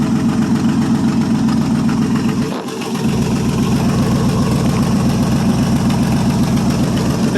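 A 1973 International 1210 two-wheel-drive tractor idles loudly and steadily up close after a cold start, its heavy low engine throb continuous, with one brief dip near the middle.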